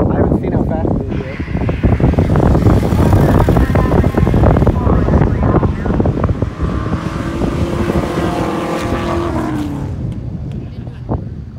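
Ford Mustang GT racing at an event, heard as a loud, steady engine roar with heavy wind buffeting from close up, the pitch rising toward the end, while people talk over it.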